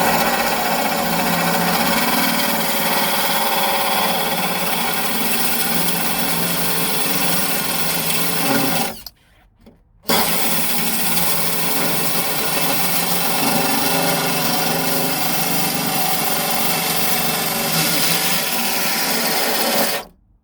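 Cutting disc grinding into metal near a car's fuel tank, a loud, steady abrasive whine that stops briefly midway and then resumes for a second long pass.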